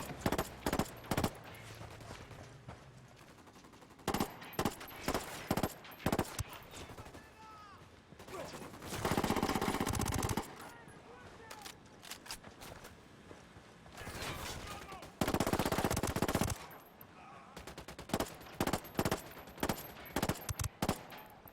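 Gunfire in Ghost Recon Wildlands comes as sharp, loud cracks and bursts scattered across the scene, some in rapid runs and some single shots, with voices talking between volleys.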